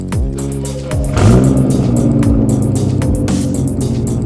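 A Nissan R32 GTR drives off, its engine running up through the gears with repeated rising revs and gear changes, close and loud from inside the cabin, with no talk.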